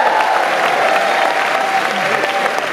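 A large crowd at a London film premiere gives loud, steady applause and cheering for an entertainment company director taking the stage, a thick continuous roar of clapping close and full throughout.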